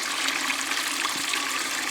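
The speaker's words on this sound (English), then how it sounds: "let your water run cold out of your hose" Cold water runs steadily out of a garden hose, a constant hissing, splashing flow that stays even and fairly close throughout.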